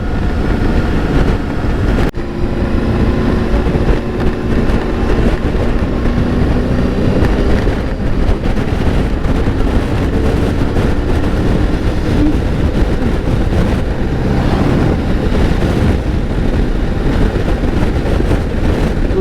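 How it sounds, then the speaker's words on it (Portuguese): Strong wind buffeting a moving microphone, a constant loud roar with engine rumble underneath, steady throughout with no voices. "Vento muito forte."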